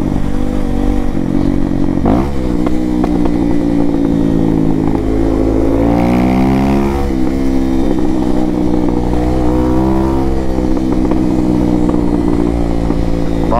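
A remapped motorcycle engine with an unfiltered exhaust revs loudly, its exhaust roaring and rising in pitch through repeated throttle blips, close by with mechanical clatter and no talking.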